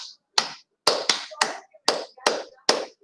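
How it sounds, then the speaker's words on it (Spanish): Sharp hand claps ring out in a quiet room during a lesson. About eight crisp, separate smacks come at uneven intervals, each with a short decay, with silence between them. "Venga, vamos a aplaudir."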